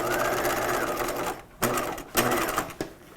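A sewing machine stitches a seam on a 1950s shelf-bust dress with a full skirt, a close, loud steady whir that stops briefly twice before resuming in short runs.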